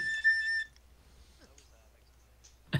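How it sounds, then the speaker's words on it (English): A flute is played as a steady, bright sustained whistling tone that holds for a little over half a second, then cuts off and leaves faint background noise behind. "That was Avex playing his flute"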